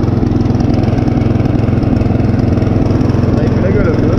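A small garden tractor engine runs loud and close in cold winter air, a rough steady chugging drone with an even pulsing beat throughout.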